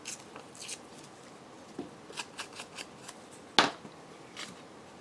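A few short, crisp tears of paper in a collage journal, scattered among soft handling rustles, with one louder rip near the end.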